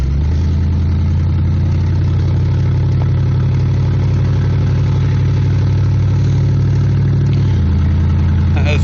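A 1968 Dodge Charger R/T V8 idles cold after sitting for a day and a half, a steady, loud, deep rumble that holds evenly throughout with a slight drop near the end, no voices over it.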